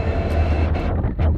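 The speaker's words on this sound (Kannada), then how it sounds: "ನಮ್ಮ ಟ್ರೈನ್ ಇವಾಗ ಬಿಜಾಪುರದಿಂದ ಬಿಟ್ಟು ಹೊಂಟೈತಿ" A passenger train pulling out of Bijapur station, a steady low rumble of the moving coaches with rising and falling wheel noise close by, with no talk.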